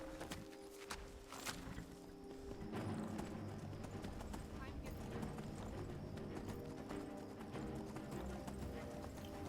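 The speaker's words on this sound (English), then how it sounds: "Once out of the city, I steal a horse because I'm a bad boy." Hooves clip-clop steadily as a horse gallops along in the video game Skyrim, a continuous rhythmic pounding heard up close with a brief whinny near the start and game ambience underneath.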